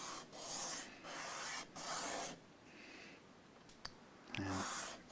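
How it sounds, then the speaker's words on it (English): Guitar bridge base with a curved underside and a small centre foot being sanded down to reduce its height: several steady, close rasping sanding strokes in bursts with brief pauses, no talking. "sand this down"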